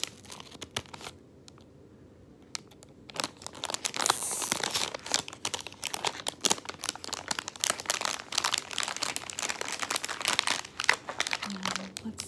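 A crinkly plastic bag of bubble gum is cut open and handled up close, with dense crackling and crumpling that swells after a brief quiet stretch, while a soft voice talks at times.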